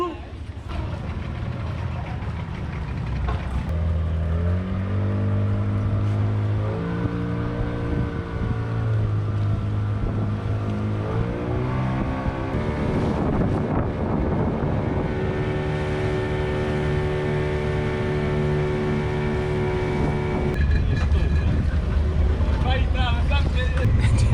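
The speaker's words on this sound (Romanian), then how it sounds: "M-au adus cu barca pe o altă barcă." A small motorboat running across open water in Komodo National Park, Indonesia, its engine droning loud and steady with rising and falling pitch as it changes speed, close by throughout, with no voices.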